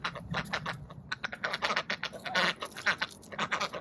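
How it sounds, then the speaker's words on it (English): Ducks quacking in a garden run as they explore a newly opened second half, a busy stream of repeated short nasal calls with close, overlapping bursts and no talking. "my ducks are finally exploring the other side of"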